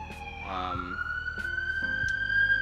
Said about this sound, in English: I think there's an ambulance up the road right here